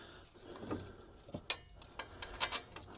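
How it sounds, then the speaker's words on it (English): A ratchet is worked in short swings on a tight bolt of a Smart 453's brake during a disc and pad change, giving a few faint, irregular metallic clicks close by in a quiet space. "You don't really have a great deal of room to swing the ratchet"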